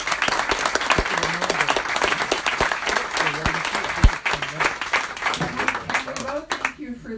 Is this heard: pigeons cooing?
no